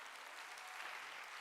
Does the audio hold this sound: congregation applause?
yes